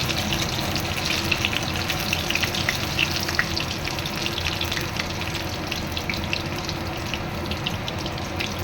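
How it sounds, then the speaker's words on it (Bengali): Potato chops fry in oil over medium-low heat, a dense, constant bubbling sizzle with a loud, even hiss and scattered crackles, close by with no talk. "মিডিয়াম টু লো আঁচে এগুলোকে ভেজে নেব।"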